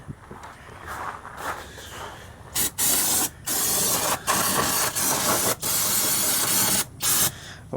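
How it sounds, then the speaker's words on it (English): Brake cleaner is sprayed in repeated bursts on a Honda Civic, loud close hissing blasts of about a second each separated by short pauses, with no talking. "I'm gonna just spray brake cleaner everywhere"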